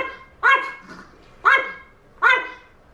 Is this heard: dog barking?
yes